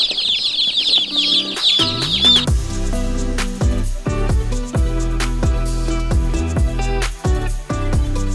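Chickens cluck and chirp busily at first, then a steady thumping beat and other sounds take over, with occasional bird calls.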